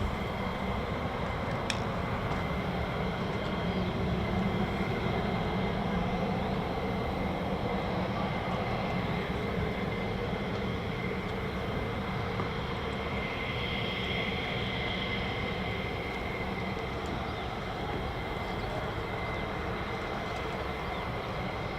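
Steady broadband roar of F-15 and F-35 fighter jets idling and preparing for departure at RAF Lakenheath, a continuous engine drone with a high whine, heard from some distance for the whole stretch with no gaps.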